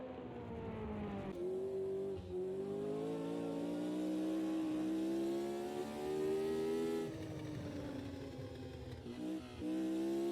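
Vintage Formula Junior race car engines roar steadily and loudly, pitch rising and falling as the cars accelerate and shift gears, with no talking.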